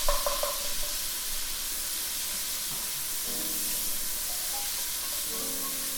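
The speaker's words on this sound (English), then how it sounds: "these onions will need a couple minutes to soften and almost caramelize" Onions and a spoonful of miso sizzle in a pan while being stirred, the start of braised sage chicken thighs. A steady, close hiss of frying fills the clip, with a few light clinks near the start and no talking.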